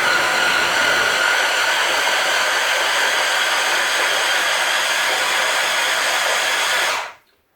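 A blender purées hot leek and potato soup in one loud, steady whirring run that holds constant for several seconds before cutting off abruptly.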